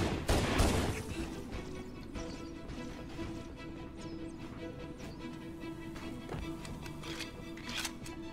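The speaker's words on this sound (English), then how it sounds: "What, you guys didn't hear all the shooting?" Rapid gunfire from a Halo 1 firefight, with a dense burst at the start followed by a steady, distant-sounding stream of shots and clatter.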